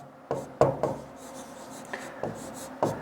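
Chalk or pen writing on a board during a classroom-style English vocabulary lesson, a few soft scratchy strokes and taps in irregular bursts, close and fairly quiet.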